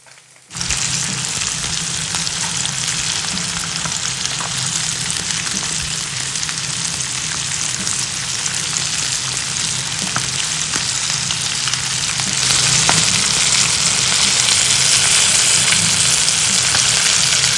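Fish fry in hot oil with a loud, continuous sizzle heard close up, swelling even louder toward the end and running unbroken without talk.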